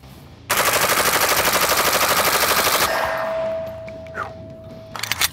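A Vz.58 rifle fires a rapid, fast-rhythm burst of loud, close shots for about two seconds, then the noise decays into ringing and a steady tone, with a few small clatters afterward.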